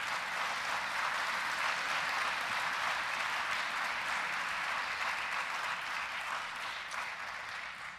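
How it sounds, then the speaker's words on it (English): A concert audience at a county high school honors concert gives sustained, dense applause that fills the hall steadily and tapers slightly toward the end. "Please give them a round of applause."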